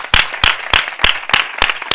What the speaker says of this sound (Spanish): os pido también un aplauso